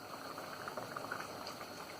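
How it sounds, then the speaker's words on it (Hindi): Water at a rolling boil in a pot for vegetable pilau, a soft steady bubbling and gurgling, fairly quiet and close, with no talk. "अब इसको अच्छे से उबाल आ गया"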